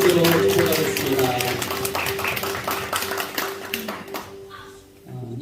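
A church congregation at Sunday worship claps together in steady, dense applause that carries for several seconds, then tapers off and fades near the end, with voices mixed in.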